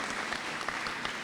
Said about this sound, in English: Let's give them a round hand of applause.